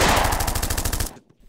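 Rapid machine-gun fire in an animated parody scene, a loud fast burst of about a dozen even shots that cuts off abruptly into silence.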